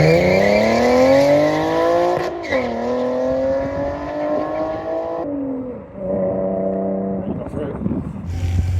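Nissan 370Z racing down a drag strip, its engine revving hard and climbing through the gears with a loud, close exhaust roar, briefly dropping between shifts, with no talking over it.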